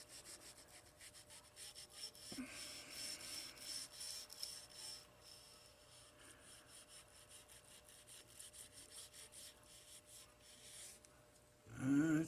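A brush scrubs carbon out of the rail of a CZ P01 pistol in quick, repeated rubbing strokes, faint and close, ending in a louder scrape.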